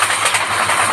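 A train running in a train video game rolls along at speed with a steady, loud rumble and rhythmic clatter, continuous and close, with no voices.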